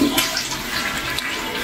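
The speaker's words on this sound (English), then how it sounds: "It's got a super easy flush to it." A Woodbridge toilet flushes with a steady rushing wash of water, continuous and close, with no voices.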